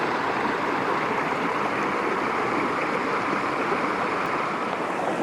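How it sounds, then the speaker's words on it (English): Steady, full rushing of a clear mountain stream in Glencoe's Lost Valley, water tumbling continuously at close range with a broad, unbroken roar and no voices. "Plenty of water coming down the stream now."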